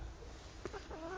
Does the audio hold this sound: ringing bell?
no